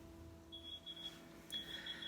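A faint electronic kitchen oven timer beeps in short repeated high pips, pausing briefly before another run of beeps, over a low background hum.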